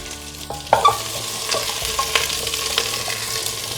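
Mixed vegetables stir-fry on high heat for a soup master stock, a close, steady sizzle with spatula knocks and scrapes against the pan.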